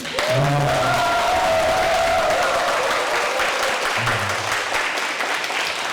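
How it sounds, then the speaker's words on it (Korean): Audience applause at a Korean health lecture, a steady broadband wash of clapping that fills the whole span at even loudness, with faint voices or tones showing through near the start and again toward the end. "큰 박수 한번 붙여줘."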